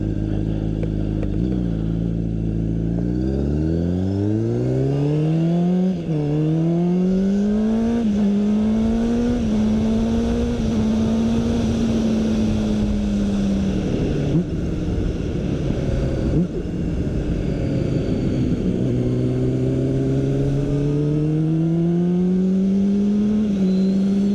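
A Honda CBR600RR sport bike engine on a short road test ride, revving up through the gears in rising harmonic sweeps, loud and close throughout, with wind rush underneath.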